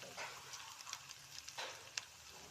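Chicken pieces dropped into ginger-garlic paste frying in a handi for chicken karahi, producing a soft, low-level sizzle with brief bursts of crackle.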